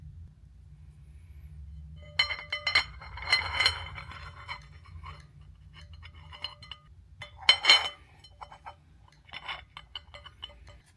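Several flashlights are set down on a large uranium glass plate, giving a few separate clinks and clunks of metal on glass, with quiet gaps between them.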